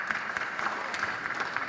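Applause from an audience at a church finance training session, steady dense clapping throughout, moderately quiet and without talk.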